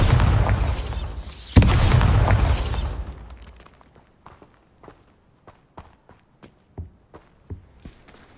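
Explosion spell cast in the Hogwarts Legacy video game: a loud burst and rumbling blast that fades over a few seconds, followed by sparse scattered pops and clicks.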